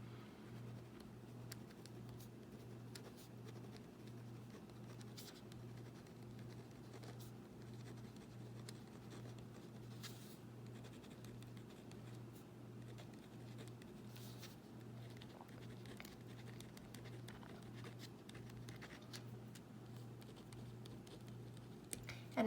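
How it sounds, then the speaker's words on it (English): Handwritten notes on chemical weathering being jotted down, a faint soft scratching and tapping of pen on paper that runs steadily for over twenty seconds beneath a low, regularly pulsing background hum. "I'm going to write that down here."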